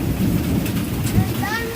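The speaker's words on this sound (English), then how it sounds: "Right now it's raining like crazy. There's thunder." Heavy rain pours steadily with rumbling thunder close by at home, a dense continuous wash of sound with a deeper roll building partway through.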